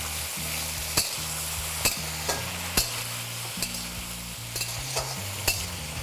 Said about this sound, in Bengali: আর তারই সাথে ঝিঙেটাও এখানে অ্যাড করে দেবো। এবার এটাকে ভালো করে আপনাদের ভেজে নিতে হবে।